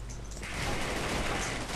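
Machine gun fire from the video game Rush Team, a sustained burst of rapid shots that kicks in after a brief lull and continues as a dense, noisy rattle at moderate level.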